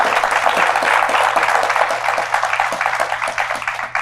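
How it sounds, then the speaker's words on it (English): Dense crowd applause fills the whole stretch, a steady broadband roar of many hands with faint individual claps poking through. "Give her a round of applause."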